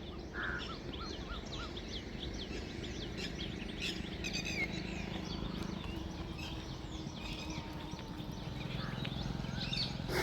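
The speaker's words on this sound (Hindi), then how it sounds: "बहुत सारे मोरों की आवाज़ आ रही है।" Peacocks call across an open field with repeated chirping bird cries, faint and distant over a steady outdoor hiss.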